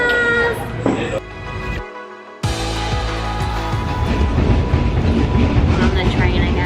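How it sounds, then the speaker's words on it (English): Steady rumble and rhythmic clatter of a train in Vietnam rolling on rails, loud and continuous, with a brief muffled dip partway through. "On the train again"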